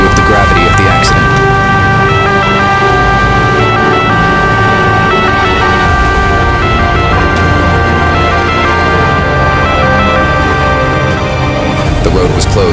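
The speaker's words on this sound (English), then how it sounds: "One ambulance coming extremely fast due of the gravity of the accident." An ambulance siren wails continuously and loudly over rumbling traffic noise, staying close the whole time, as it rushes to a serious road accident in Italy.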